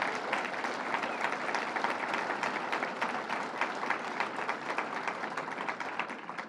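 An audience at Governor Cuomo's tax fairness campaign launch applauds Senator Kennedy, a continuous wash of many hands clapping at a moderate distance, steady throughout and fading slightly at the end.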